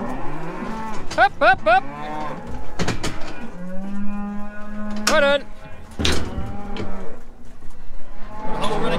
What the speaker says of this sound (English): A whole run of calves right now.